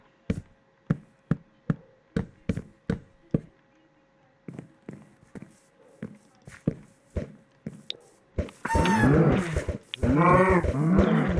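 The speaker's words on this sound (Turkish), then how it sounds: "Şu inek sesleri çıkıyor" Minecraft cows with a texture pack give loud, harmonic moos near the end, after a run of regular, evenly spaced tapping steps in the game.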